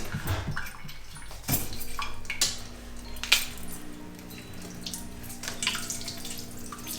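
Shrimp being cleaned with lemon under a running kitchen tap, a steady gush of water with scattered clinks and knocks of a bowl or utensil in the sink, no voices.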